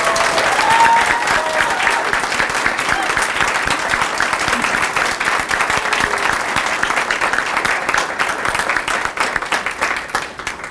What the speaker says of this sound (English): let's please have a round of applause for our future educators